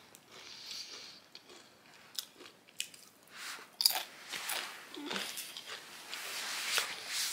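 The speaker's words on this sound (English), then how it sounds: "so now I'm just eating Doritos" Doritos chips being eaten up close, with irregular crisp crunches and wet chewing bursts spread through a quiet room, fairly faint overall.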